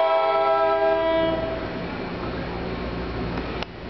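An ALP-46 electric locomotive hauling Comet V passenger cars pulls into a station. A loud, sustained multi-tone horn blast fades into a steady rumble of the rolling train, with a sharp click near the end.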